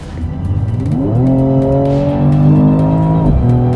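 A Mercedes-AMG E53 Coupe accelerating at full throttle, its engine note climbing loud and close through rising gears with a clear shift partway, with no talk over it.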